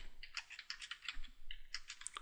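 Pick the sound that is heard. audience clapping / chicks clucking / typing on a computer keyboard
typing on a computer keyboard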